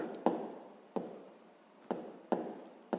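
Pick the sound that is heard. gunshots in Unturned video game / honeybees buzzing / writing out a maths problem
writing out a maths problem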